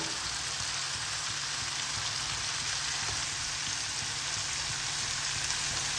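Drumsticks, potatoes and tomato frying in a pan, a steady dense sizzle with an even, rain-like hiss that holds at one level throughout, with no talk.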